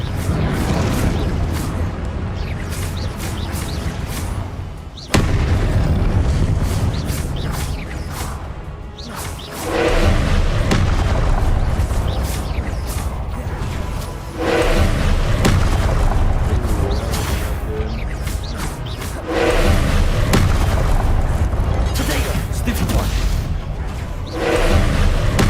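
Loud, dense blasts from the Confringo curse in Hogwarts Legacy, with a series of booming explosions, whooshes and sustained rumble that run almost without a break, and short dips between bursts.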